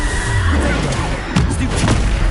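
The Bombarda explosion spell in the video game Hogwarts Legacy booms amid dense, loud combat noise, with a couple of sharp blasts standing out near the end of the short burst.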